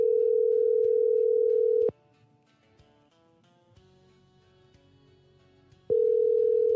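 A telephone ringback tone sounds while a call is placed: one long steady tone, about four seconds of near silence with faint background, then the tone starts again.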